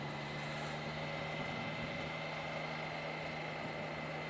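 A motorcycle cruises in traffic in fourth gear at around 3,000 rpm and 30 mph, giving a steady, even engine drone with a constant tonal hum, heard alone without talk.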